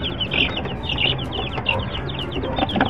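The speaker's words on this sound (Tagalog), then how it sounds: "yung ating mga sisiw na ito" Chicks in a brooding pen peep and cheep steadily throughout, a continuous close chorus of small birds with no talking.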